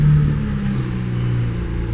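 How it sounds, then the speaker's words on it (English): A car engine cranks and turns over during an engine block ground test, a loud, steady mechanical drone with a low throb filling the whole short stretch, no voices over it. "let's go ahead and crank this thing"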